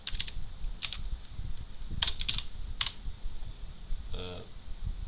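Bursts of typing on a computer keyboard while entering HTML code, a few short clusters of crisp keystrokes close up over a low background hum.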